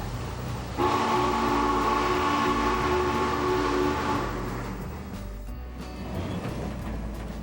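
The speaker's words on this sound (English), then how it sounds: "the Challenger bellows a warning at the railroad crossing" A Challenger steam locomotive blows a loud, sustained warning whistle at a railroad crossing for about three seconds. The heavy rumble of the moving train continues beneath the whistle and after it stops.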